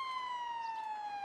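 A video game police car siren wails in a steady, slightly falling electronic tone, clear and sustained without other sounds.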